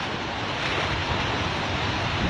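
Sea surf breaking against a raised stone seawall in Kerala during heavy rain, a steady broadband wash of water and wind that stays loud and constant throughout, with no voices.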